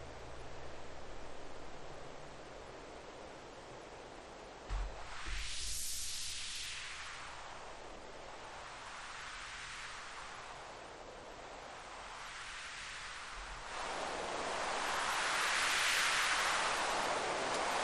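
Synthesized wind on a VCV Rack virtual modular synth: broadband noise with slow, sweeping filter swells rising and falling in gusts, ending in a brighter, louder surge.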